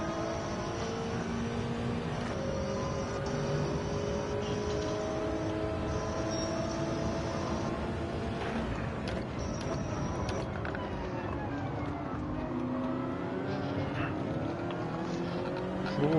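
Engine of a small trophy car racing around the Nürburgring in a racing video game, a steady continuous drone with rising and falling pitch as it accelerates and shifts, loud and constant throughout.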